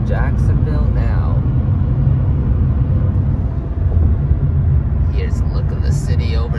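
Steady low road rumble and tire roar from a car cruising the highway past Jacksonville, loud and continuous with a slight dip midway, with no talk over it.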